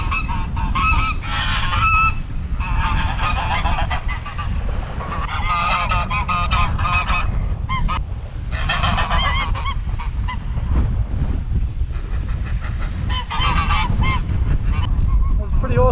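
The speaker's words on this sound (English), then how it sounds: "down here at the port of Apollo Bay, look, the ducks don't even want to move." Waterfowl at the port of Apollo Bay, a harbour on the Great Ocean Road, honking loudly and continuously in a close, crowded chorus of overlapping calls over a steady windy background.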